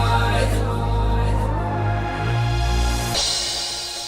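A dense instrumental music track with its treble rolled off, so it sounds muffled and dull, playing steadily throughout with no voices and a shift in the mix near the end.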